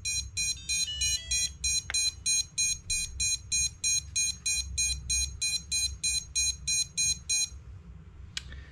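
A drone waiting for its remote radio connection gives off repeated electronic beeps in a regular pulsing pattern, fairly loud and close, until the beeping cuts off near the end, leaving a final short chirp.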